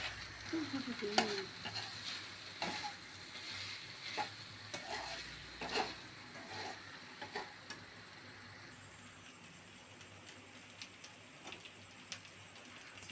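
Chicken with ginger garlic paste fries quietly in a pan, a faint continuous sizzle punctuated by light ticking spoon taps and stirring sounds.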